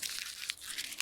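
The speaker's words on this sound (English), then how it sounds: "Now, you can take that paper and just crumple it up" A short burst of dry crinkling and crackling, close and continuous, with a few sharper crunchy peaks as paper is squeezed.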